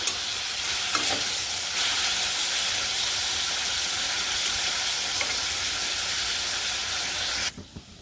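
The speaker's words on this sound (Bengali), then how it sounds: "আলু ভাজির মধ্যে এখন হচ্ছে হলুদ গুঁড়া আর মরিচের গুঁড়া দিয়ে দিলাম" Sliced potatoes fry in a hot pan with turmeric and chili powder, giving a loud, steady, hissing sizzle with stirring throughout that stops abruptly near the end.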